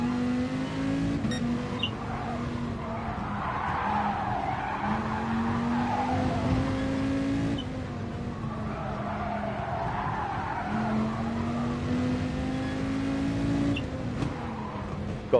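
A race car driven in GT Sport, on the Laguna Seca circuit, whines steadily through its gears while its tires squeal and skid through corners, the engine pitch rising and dropping in long cycles with no talk.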